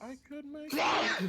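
A single sharp, loud sneeze bursts out right after a brief spoken phrase, close to the microphone, noisy and explosive before trailing off.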